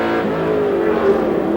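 Touring race car at Amaroo Park Raceway during the 1986 ATCC round, its engine droning loudly and steadily with a slight rising pitch as it passes close by, with no talk over it.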